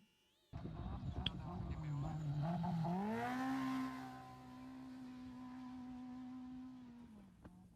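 A NORRA Baja rally race vehicle's engine at full throttle, a sharp rise in pitch settling into a loud, sustained high-revving drone that holds steady for several seconds before cutting off.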